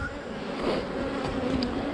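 Honey bees swarm around an open hive, a steady dense buzzing hum filling the space close by, with no talk over it.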